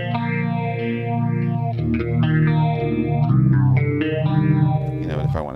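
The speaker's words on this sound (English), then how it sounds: "This is a clean sound with a phaser on it." A clean electric guitar with a sweeping phaser effect, the tone swirling up and down while chords and notes ring out.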